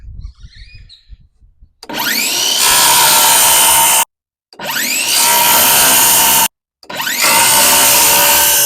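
A power tool cuts a notch into wood while upgrading a boat, in three loud, harsh bursts separated by short pauses, each opening with a rising spin-up whine.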